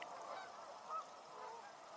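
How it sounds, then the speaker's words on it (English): Geese honking in a mixed waterfowl flock on a winter outing, a soft, steady chorus of overlapping calls with one slightly brighter honk near the middle, heard from a distance with no talking. "Geese, canvasbacks, scops."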